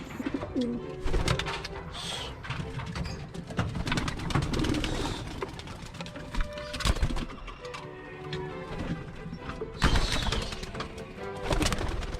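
Pigeons coo repeatedly inside a loft amid clattering and rustling, with occasional sharp knocks and wing flutters close by.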